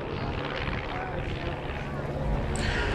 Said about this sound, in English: Again, a local aeroplane from Archer Field